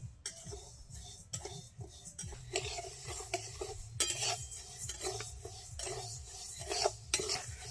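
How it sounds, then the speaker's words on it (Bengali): Moong dal roasted and stirred in a pan over a wood fire outdoors on a cold, windy day, soft dry scraping and rattling stirs in quick repeated strokes with a faint sizzle, fairly quiet and without speech. "এখানে আমাদের ডাল ভাজা হচ্ছে"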